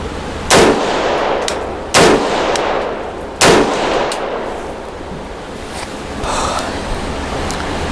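Three loud, sharp rifle shots ring out at even intervals of about one and a half seconds, each with a ringing tail, followed by quieter outdoor background.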